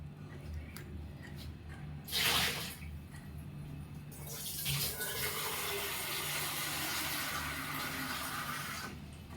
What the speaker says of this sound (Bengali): এখনও কালো জল বেরিয়ে যাচ্ছে